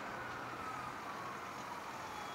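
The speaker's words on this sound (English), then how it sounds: "And this is our brush truck." A brush fire truck in a holiday parade drones steadily nearby, a low continuous rumble with no other clear sounds.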